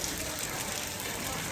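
Steady rain pours during an evening temple festival at Thiruchendur, a dense, even hiss of drops on surfaces, close and continuous.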